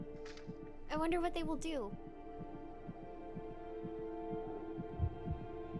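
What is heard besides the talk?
fast heartbeat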